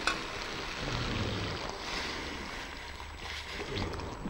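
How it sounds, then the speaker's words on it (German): Vegetable broth pours into a pot of sautéed vegetables and potatoes for a wild garlic potato soup, a close rushing, gurgling splash of liquid lasting several seconds. "Und jetzt füllen wir das Ganze mit Gemüsebrühe auf."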